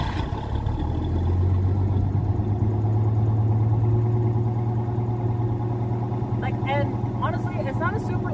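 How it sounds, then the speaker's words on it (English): A car's inline six engine with dual exhaust idles with a steady low rumble and deep exhaust burble, close by, while a voice speaks briefly near the end. "you can get your 200 inline six to sound just like this"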